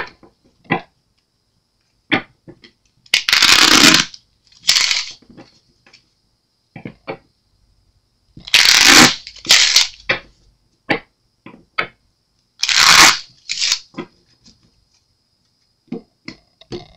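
Tarot cards being shuffled by hand, with repeated bursts of crisp riffling and flicking separated by quieter taps and short pauses, close and fairly loud, with no talking.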